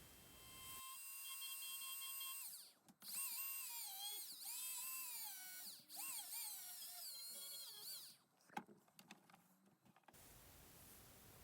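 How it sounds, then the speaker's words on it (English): A right angle die grinder carving wood whines at high pitch, its tone dipping and rising repeatedly as it bites into the wood, then cutting off abruptly. "this is the first time I've used a right angle die grinder"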